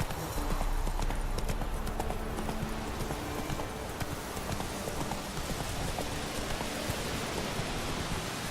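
Horse hooves gallop in The Witcher 3 video game, a rapid, continuous clatter of clip-clop beats mixed with a rain-like hiss, fairly loud and without speech.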